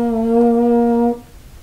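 A baritone euphonium with a stuck valve plays one sustained, steady brass note for about a second before cutting off, leaving quiet room tone.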